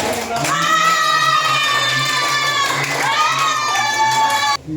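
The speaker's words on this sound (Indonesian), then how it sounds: "Tepuk tangan untuk kita." Children in a classroom cheer and shout together in a loud, sustained burst with high, sliding voices, cutting off abruptly near the end; no clear clapping stands out.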